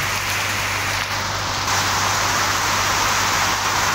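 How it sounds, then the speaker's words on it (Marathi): A dense, steady hiss of heavy rain pouring down, loud and continuous throughout. "लय जोरात पाऊस यायला लागला"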